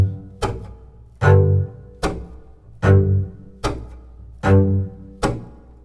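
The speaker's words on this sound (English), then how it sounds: "I can play my chop stroke while muting" Muted chop strokes on a double bass land as a steady series of seven percussive thunks, each a short dull attack with a brief low pitched ring, played close and alone.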